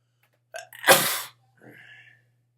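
A single sharp sneeze close to the microphone, a quick inhaled catch followed by a forceful burst, then a short trailing vocal sound in otherwise quiet surroundings.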